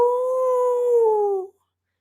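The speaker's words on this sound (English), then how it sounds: "The gurgling howl came from farther away than the crawl space" An infected dog lets out one long, gurgling howl, loud and sustained, sliding slightly downward in pitch before it cuts off abruptly into silence.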